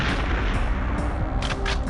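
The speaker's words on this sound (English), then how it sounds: "Right, so we'll bring out a Devastator because we're going to go bang." Devastator grenade launcher explosion in the Nintendo 64 game Perfect Dark, a loud, dense booming blast with sustained rumbling roar filling the whole moment.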